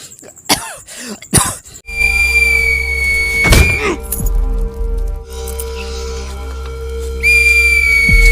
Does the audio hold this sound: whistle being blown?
yes